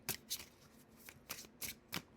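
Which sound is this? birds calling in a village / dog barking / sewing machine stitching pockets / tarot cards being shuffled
tarot cards being shuffled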